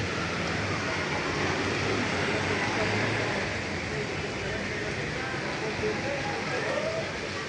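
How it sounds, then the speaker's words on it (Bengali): Steady rain falling on a balcony lined with potted creeper plants, a dense, even hiss throughout with no break. "কালকে রাত থেকে এখন পর্যন্ত বৃষ্টি হচ্ছে"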